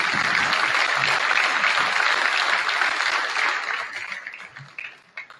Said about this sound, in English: One last round of applause for these guys.